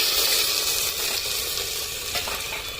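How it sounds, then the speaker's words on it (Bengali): Ginger garlic paste sizzles and crackles in hot oil in a pan while potato curry is cooked, a steady close hiss that runs alone with light stirring scrapes. "এবার আমি আদা রসুন পেস্টটা দিয়ে দিচ্ছি"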